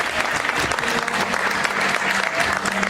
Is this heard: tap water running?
no